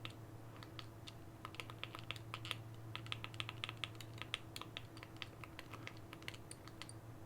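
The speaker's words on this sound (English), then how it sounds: "So I'm going to type it in slowly here so you can follow along." Keys tapped on a keyboard for a search in the Roku app, a quiet, steady run of separate clicks at a slow, even pace, heard alone without talk over a low background hum.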